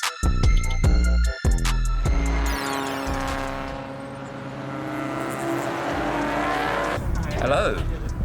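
Race cars at Apex Motor Club racetrack, loud engines roaring and passing in quick bursts, then a sustained roar that fades as cars move away, with a voice talking over the sound.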